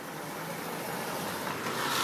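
A Volkswagen Golf passes during a BMW meet parade in Soltvadkert, its engine swelling from a steady road rumble with wind noise into a louder, closer rush near the end. No one speaks.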